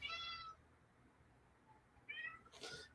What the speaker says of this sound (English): if you hear my cat, I guess he just woke up